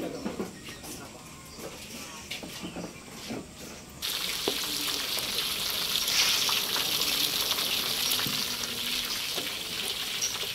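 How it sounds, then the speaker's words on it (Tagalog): Tilapia frying in hot oil, a steady broadband sizzle that jumps louder about four seconds in and holds there, with faint bursts of voice in the background. "piniprito na."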